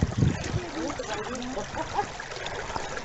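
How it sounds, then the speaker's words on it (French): Water trickles and splashes over rocks from a small waterfall on a stony beach, a steady close babble with a louder splash near the start and faint speech mixed in. "Hop, une petite cascade ici."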